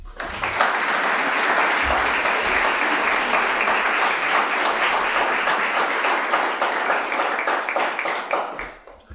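Sustained audience applause welcoming a speaker at the Wheeler Centre, a dense, even wash of many hands clapping close by for about nine seconds before fading out at the end.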